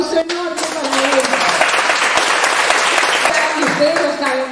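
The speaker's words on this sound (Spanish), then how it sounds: "yo pido un aplauso enorme para él." Loud audience applause at a natatorium event, dense clapping and cheering, with a voice speaking over it at the start and again near the end.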